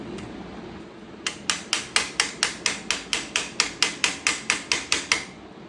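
Rapid hammer blows drive the side levers into a Green Soul Assassin gaming chair, a run of about eighteen sharp, evenly spaced knocks after a single early tap, close and alone.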